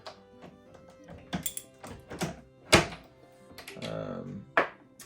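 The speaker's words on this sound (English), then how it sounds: "hopefully y'all can see the primers falling out down there. You can hear it." Spent primers being knocked out of Federal 7mm Rem Mag rifle brass during depriming, falling through a hole into a tube: a series of sharp, irregular thunks and taps, close by, over a faint tonal background.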